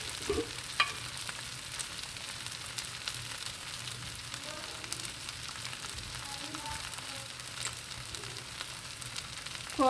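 Potato pieces frying for a Telugu-style aloo fry sizzle steadily in an oiled pan, a continuous loud crackling hiss broken by occasional stirring scrapes, with a voice faintly in the background.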